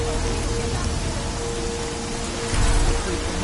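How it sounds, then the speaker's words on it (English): Steady, dense rainfall in Deus Ex: Mankind Divided, a constant hiss of drops with a low rumble underneath, swelling slightly near the end, with no voices. "Get us out of the rain."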